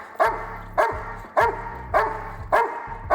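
A dog barks five times in a steady rhythm, each bark loud and close, during protection training at an obedience seminar.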